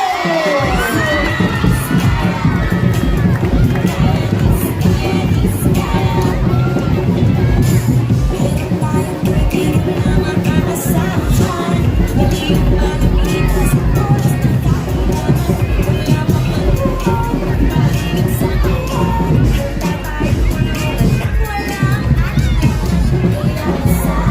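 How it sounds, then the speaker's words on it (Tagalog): Dense, loud crowd at a nighttime barangay campaign rally in Pinagbuhatan, steady cheering, shouting and clapping over booming background music, with no let-up throughout. "Salabuhan natin ng isang malakas na palakpakan na kasamang Hiyawan"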